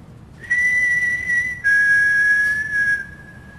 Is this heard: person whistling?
yes